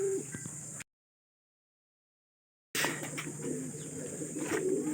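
Racing pigeons coo and flutter on arrival from a training flight, amid outdoor chatter and rustling, with a sudden gap of silence partway through before the sounds resume.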